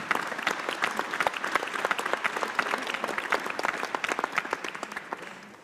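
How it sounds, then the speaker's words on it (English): An audience at a conference panel session applauds the speakers, a dense, sustained burst of many hands clapping that gradually tapers off over a few seconds. "I'd like really all of you to join me in a round of applause for all our speakers."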